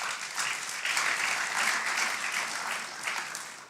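Sustained audience applause at an aviation conference closing ceremony in a hotel hall, an even, dense patter of many hands clapping throughout with no voices standing out.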